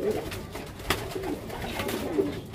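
A pigeon, a competition racing bird wearing leg rings, gives soft low coos close by, with a sharp brief knock partway through and faint background noise.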